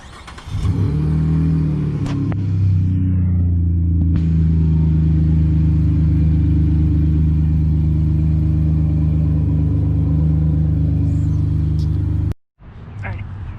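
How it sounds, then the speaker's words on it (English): A pickup truck fitted with Gibson Extreme dual exhaust pulls in, its engine giving a steady, loud, close low rumble that holds throughout before cutting off near the end. "I'm just gonna pull my truck in the driveway here and show you guys."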